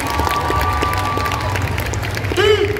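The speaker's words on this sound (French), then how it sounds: "On peut les applaudir encore une fois bien fort, s'il vous plaît." An audience applauds cosplay contestants at a Paris manga and sci-fi show, with dense, steady clapping from a large crowd filling the hall and a few voices over it.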